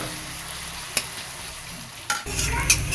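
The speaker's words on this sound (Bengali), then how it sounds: "একটু ভাজা ভাজা হোক" Semolina dry-frying in a pan over a high gas flame for spicy jhal suji, stirred with steady scraping and a soft sizzle, a sharp clack early on and louder stirring near the end, with no talk.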